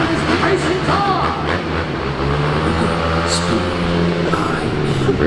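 Racing car engine revving at a stunt show arena at Disneyland Paris, loud sustained motor drone with rising and falling pitch, crowd and announcer noise blending underneath.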